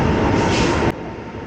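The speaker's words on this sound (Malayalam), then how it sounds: "ഇനിയിപ്പോൾ നമ്മുടെ വണ്ടി നാഗർകോവിൽ സ്റ്റേഷനിലേക്ക് കയറുകയാണ്" A broadband rumble of the Himasagar Express, loud and close, drops abruptly to a quieter hum as it slows pulling into Nagercoil station.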